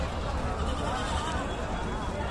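Sheep and goats bleat in a crowded weekly Friday livestock market near Gudur, Tirupati district, with thousands of rams and goats; a dense, continuous murmur of animals and voices fills the scene at close range.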